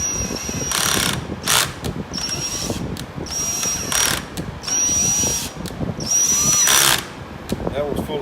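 A power drill driving a tap into threaded bolt holes on a GM 10-bolt rear axle housing, sounding as repeated short whining bursts with ratcheting clicks between them, close and loud.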